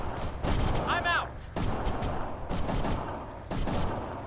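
Gunfire aimed at an enemy tank in a military video game, with loud bursts and single shots cracking out repeatedly over a dense battle din, and voices breaking in briefly.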